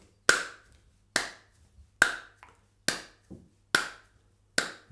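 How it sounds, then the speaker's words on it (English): Hands clap along to a beat during an at-home music lesson: six sharp, close claps at a steady, even pace, each with a short ring-off and no voices between them. "Just clapping along with me."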